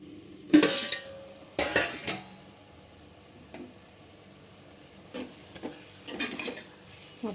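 A spoon stirs raw prawns with karonda and drumsticks in a curry pan: a few loud, close scraping strokes early on, then lighter irregular scrapes and clinks, with no talking.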